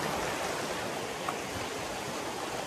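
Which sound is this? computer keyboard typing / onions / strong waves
strong waves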